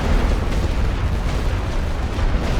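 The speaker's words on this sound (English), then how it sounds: "They are hitting us with the suppression artillery." Suppression artillery explodes in the video game Elite Great War Western Front. A dense, continuous rumble of blasts fills the whole stretch at steady loudness.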